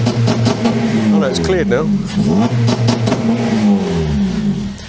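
A supercharged Honda Civic Type R engine idles loudly and steadily close by, with a couple of brief revs rising and falling, while a person talks over it.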